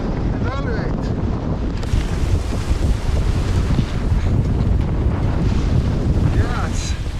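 Strong wind of about 38 knots roars across a sailboat at sea, buffeting the microphone steadily and loudly, with waves and water rushing beneath it throughout.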